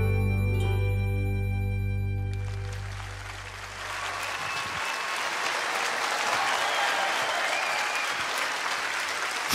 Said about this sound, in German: Ihr wisst ja nicht, wie wir dieses Geräusch vermisst haben. Eine Runde Applaus.